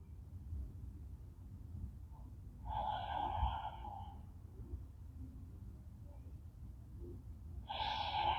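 Slow, deep breaths during a guided relaxation at the close of a yoga flow session, with two soft breathy exhales several seconds apart over a low steady background hum.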